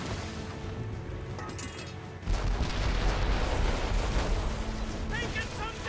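Ship cannons fire in a naval battle in Assassin's Creed Rogue, a loud rumbling broadside that swells and booms continuously, with shouting voices mixed in.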